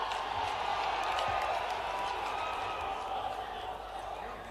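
Audience applause from a crowd at an Indian government ceremony with the Prime Minister joining virtually, a steady dense wash of clapping that holds strong for the whole stretch and eases slightly toward the end.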